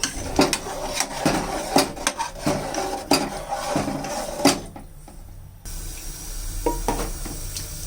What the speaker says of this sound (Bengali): এবার একটু নেড়ে চেড়ে দেবো।